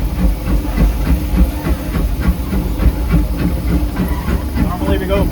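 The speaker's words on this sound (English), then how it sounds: "you can actually hear it in the engines. We're using more steam so that the chumping is getting a little bit stronger" Steady rhythmic chuffing of a Disneyland Railroad steam locomotive, heard from the cab, with hissing steam and rumbling engine noise, loud and close, with a voice talking over it.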